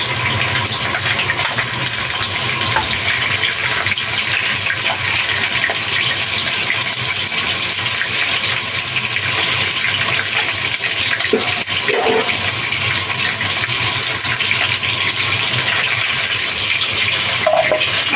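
Chopped garlic fries in hot oil while nihari is being cooked, a steady, close hiss and crackle of sizzling that continues evenly throughout with occasional small pops and no speech.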